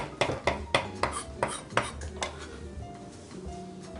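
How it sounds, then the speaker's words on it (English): A knife taps out a quick run of sharp chops on a cutting board as parsley is coarsely cut, about eight close strikes that fade into quieter kitchen clatter. "we're going to very quickly chop up a little parsley"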